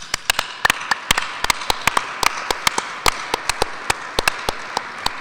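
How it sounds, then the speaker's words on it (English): Applause at a celebration of life honoring a colleague, a modest crowd clapping in a sparse, uneven patter of distinct claps, steady and fairly close, with no talk over it. "Let's give him an applause."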